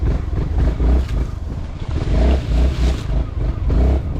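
A Honda ADV 350 scooter rides off-road with its traction control fully disabled, its engine pulsing in uneven bursts as the rear wheel spins and slips on loose ground.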